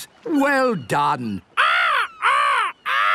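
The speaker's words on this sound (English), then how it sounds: "The cheeky seagulls are eating Grandpa's raspberries." Cartoon seagulls in Peppa Pig give three loud, harsh squawks in a row, stealing raspberries in a garden. A short spoken line comes just before the calls.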